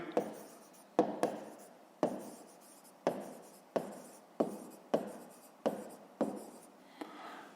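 Pen writing on paper for a fifth-grade maths problem: a regular run of about a dozen crisp taps, each followed by a short scratchy stroke, close and quiet with no speech.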